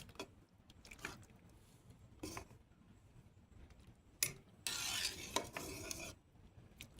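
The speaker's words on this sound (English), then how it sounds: "This is a really, really big pot of stew here. Let's give her a stir." A spoon scrapes and knocks around a very large pot of stew, with a few scattered clinks followed by a louder burst of stirring and sloshing near the end; fairly quiet and close, with no talking.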